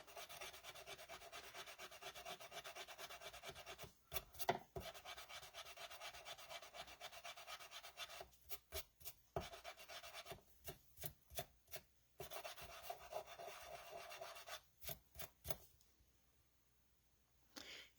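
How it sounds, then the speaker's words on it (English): A sand eraser rubs repeatedly over a surface while making masks, a continuous gritty scrubbing broken by short pauses and a few sharp knocks, fairly faint and with no voices. "If you don't have one of these, they're called sand erasers"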